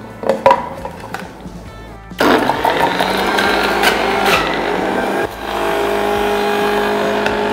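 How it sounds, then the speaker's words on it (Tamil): A mixer grinder blending beetroot, lemon and ginger into juice, a loud close motor whine starting abruptly after a few handling knocks, running steadily and briefly dipping before continuing. "இப்போ நம்ம பீட்ரூட்டும் போட்டு அரைக்க ஆரம்பிச்சிடலாம்"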